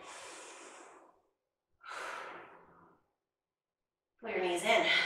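Heavy breathing during a full-body strength workout: three separate breaths, the first two long exhales and the last a louder, rougher one, close up with silent gaps between.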